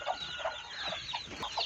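Chickens in a wire-fenced coop cluck in short repeated bursts, several birds close by and fairly soft, with no voices.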